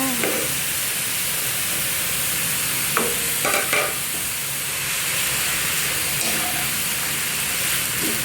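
Vegetables are stir-fried with minced pork and glass noodles in a hot pan, giving a loud continuous sizzle broken by scraping and clattering strokes of the spatula, close up and with no talking.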